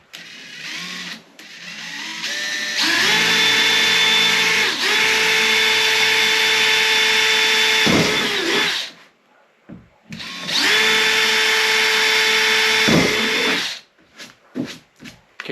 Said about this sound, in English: drilling a couple of 5mm holes